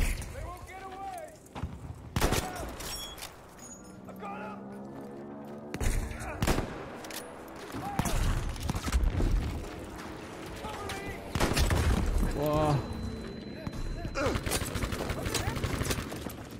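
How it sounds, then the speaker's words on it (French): Gunfire from machine-gun nests in the Battlefield V war-story mission "The Last Tiger", heard as repeated bursts and single loud shots mixed with game effects, with someone talking over much of the action. "Il y a des lignes mitrailleuses partout là."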